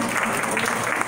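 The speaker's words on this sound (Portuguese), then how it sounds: "Merece uma salva de palmas," A short burst of applause for a guest at an in-person class, dense clapping from a group of people heard close by for about a second.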